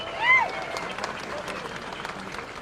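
Audience applause at a political gathering, a dense patter of clapping from a crowd that swells briefly at the start and then carries on at a steady level.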